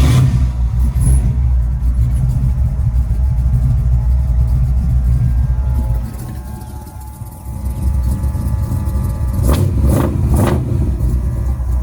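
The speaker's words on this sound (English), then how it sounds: "we can go ahead and do a cold start on it" A 1969 Ford F100 pickup with a 357 Windsor V8 and a bigger cam, cold-started and rumbling loud and rough, dipping briefly before picking back up with uneven revs.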